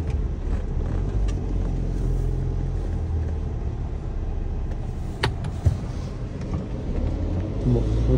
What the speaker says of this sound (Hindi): गाड़ी आ रही गाड़ी आ रही तो क्या रुक जाएगी